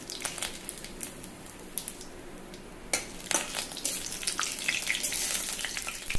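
Whole cumin seeds, two dried red chilies and two bay leaves sizzle in hot oil, a steady close crackling hiss with sharp pops that grows slightly louder toward the end.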